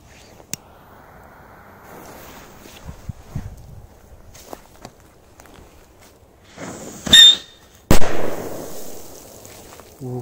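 A Cobra firecracker detonates with a sharp, loud bang near the end, followed by a ringing, decaying roar; earlier, a fizzing burst and scattered footsteps and pops sound at close range.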